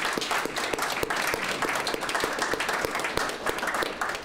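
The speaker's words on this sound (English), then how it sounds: "round of applause." Applause from an audience at a public talk on restoring bison to Eastern Slope wildlands, steady clapping with distinct individual claps standing out close by, sustained evenly throughout and unaccompanied by talk.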